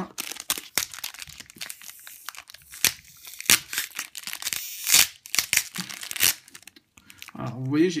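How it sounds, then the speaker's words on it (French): A Pokémon XY4 booster pack is torn open along with its sticky tape, giving a run of loud, close crinkling and ripping bursts of plastic foil in an irregular rhythm. "Alors, vous voyez, j'ai éclaté le booster,"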